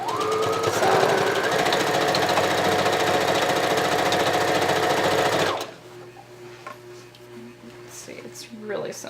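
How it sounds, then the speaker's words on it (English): Sewing machine stitching a blanket: a loud, close, steady mechanical whir with rapid needle chatter for several seconds, then it stops and only quiet room noise and small handling sounds remain. "And you don't even have to sew a perfect straight line"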